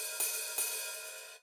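Open hi-hat hits on a Roland TD-15 electronic drum kit, fully open setting, two bright sizzling strikes that ring and sustain before cutting off abruptly.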